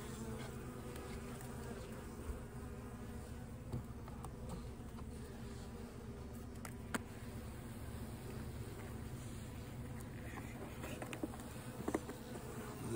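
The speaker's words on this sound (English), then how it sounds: "This is a swarm." A swarm of honey bees hums in a steady, low, continuous drone, soft and fairly distant, with occasional closer passes of single bees.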